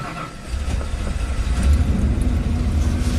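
A freshly rebuilt Ford big-block V8 engine running just after starting, with a steady low rumble and broadband mechanical noise that continues evenly throughout, no talking.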